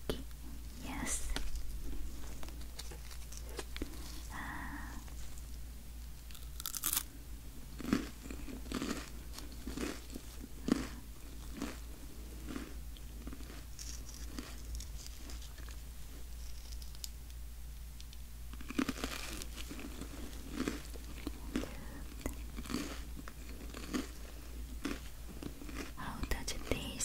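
Crisp bites into a milk cream cookie followed by close, soft crunching and chewing, with quiet whispered talk between mouthfuls.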